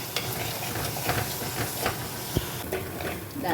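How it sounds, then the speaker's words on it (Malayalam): Ginger and garlic sauté in a pan with a steady close sizzle and hiss, broken by faint stirring clicks and one sharp knock, no one talking. "നല്ലപോലെ വഴറ്റുക."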